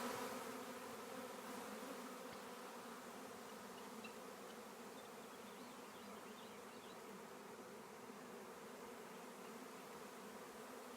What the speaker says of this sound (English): Bees are hitting this one really hard and strong.